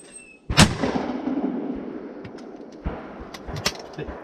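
A shotgun fires at a clay target outdoors: one sharp, loud blast with a long rolling echo, followed by a few fainter distant reports and knocks.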